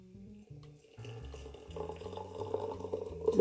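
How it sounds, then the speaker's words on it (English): Water is poured onto fine lemon powder and runs steadily, building slightly in the final second, close and alone with no talk. "I'm going to add the water to it"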